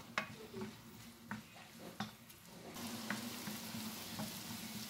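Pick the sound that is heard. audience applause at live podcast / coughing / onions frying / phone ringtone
onions frying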